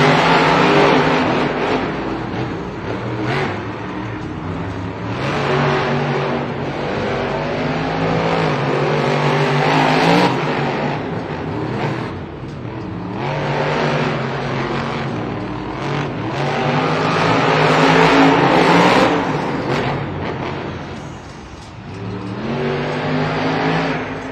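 Monster trucks race through a stadium, their big engines roaring and revving continuously for the whole stretch, rising and falling as they accelerate, with tire noise and a loud, echoing crowd-filled arena around them.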